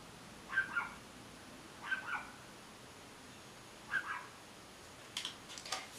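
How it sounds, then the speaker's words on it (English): Dog in another room gives a few faint, distant whimpering yips in separate pairs spaced a couple of seconds apart, with a quick cluster at the end, over a quiet indoor background. "Sorry if you can hear my dog in the background."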